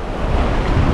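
Strong wind blows at a seashore, roaring steadily and loudly as it buffets the microphone, with surf-like rushing noise throughout.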